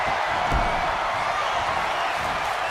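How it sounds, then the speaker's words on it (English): Roaring arena crowd noise from a WWE 2K wrestling video game match, a steady broadband wash of cheering that holds loud and constant throughout, with no clear individual voices standing out. "listen to that crowd"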